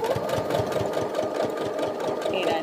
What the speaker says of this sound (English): I'm going to backstitch at that gap